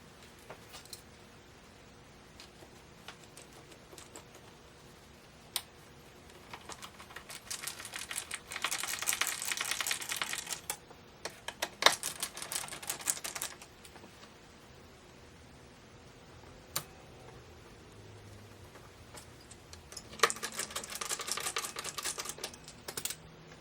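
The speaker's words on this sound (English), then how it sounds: "So I'm going to start all 4 screws." Four greased screws are started and turned into a recliner's reclining mechanism during repair, giving scattered faint clicks and bursts of close, scratchy ratcheting from the screwdriver, with quiet pauses between.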